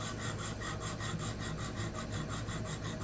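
A knife is sharpened on a 220 grit diamond plate at a fixed 20-degree angle, producing a continuous close, rhythmic rasping scrape with quick repeated strokes and no pauses.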